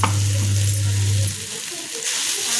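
Flattened rice (poha) with salt is stirred in a hot pan, giving a steady sizzling hiss with soft scraping. A low hum runs through the first half, and the sound stays close and fairly even.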